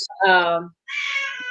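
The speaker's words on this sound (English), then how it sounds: "If you hear it, it's not a baby, it's my cat." A domestic cat, heard in the background of a network interview, lets out two close meows: a lower drawn-out cry, then a higher, brighter one after a short pause.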